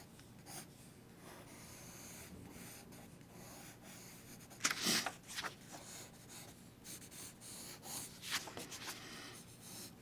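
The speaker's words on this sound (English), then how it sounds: "So the next down position, I'm going to just lightly trace." A pencil lightly tracing an animation drawing on paper makes soft scratchy strokes in short bursts, with a couple of louder rubs midway and near the end, close and quiet.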